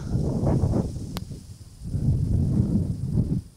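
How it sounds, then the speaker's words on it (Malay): Strong wind gusts on Mount Gap in the Titiwangsa Range, rushing and buffeting in two surges with a brief lull between, loud and close against the microphone. "angin yang bertiup kencang"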